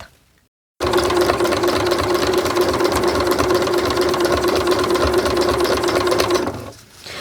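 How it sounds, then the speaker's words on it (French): Sewing machine stitching all around a fabric caterpillar plush at a 5 mm seam, running loud and steady in a continuous whirring drone for about six seconds after a brief silence, then slowing and stopping, with no voices. "on va piquer tout le tour à 5 mm"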